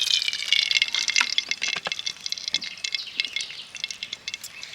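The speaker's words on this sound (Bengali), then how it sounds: "আবারও আমি সর্ষের তেল দিয়ে দেব।" Mustard oil poured from a bottle into a cooking pan, a bright gurgling trickle that is strongest at first and then breaks into short glugs and drips, heard close and alone.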